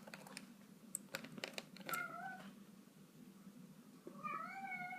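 A house cat meows twice, a short call and then a longer wavering one, close to the microphone, with scattered computer keyboard typing and clicks before it.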